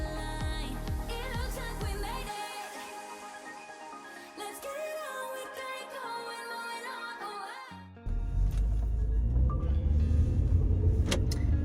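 Cabin ambience inside a car on the road: a steady low rumble with layered tonal sounds, growing into a louder, fuller road roar toward the end.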